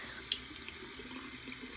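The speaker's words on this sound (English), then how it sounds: "I hate doing this face wash because the water is freezing cold" Cold water runs steadily from a tap into a sink for a morning face wash, a close, even hiss with one brief splash near the start.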